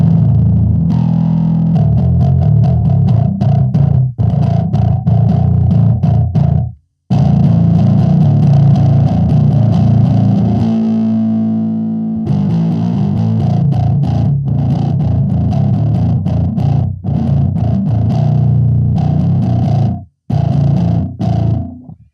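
Bass guitar through a Phil Jones BP-800 amp and C4 cabinets, using a crunchier, brutal distortion setting; loud, gritty riffing with choppy picked notes, brief stops, and a long sustained growling chord in the middle.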